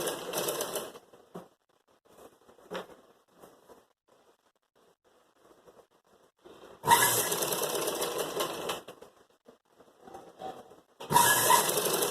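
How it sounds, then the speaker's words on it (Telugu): Sewing machine stitching fabric during tailoring of a raglan garment, running in two loud sustained bursts: one long run of about two seconds, then a shorter burst at the end, separated by quiet handling noises. "ఈ విధంగా ఒక కుట్టు అనేది కుట్టుకోవాలి"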